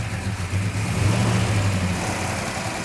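A 1967 Hemi GTX engine idles close by, a steady low rumble with a busy, continuous clatter from mechanical valve rockers running through it and no voices.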